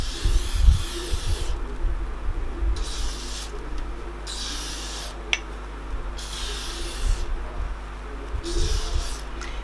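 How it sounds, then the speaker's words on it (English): Several short hissing bursts from an aerosol can of hair spray, sprayed in quick pulses at the hairline with brief pauses between, close by. "I spray the front of the hairline."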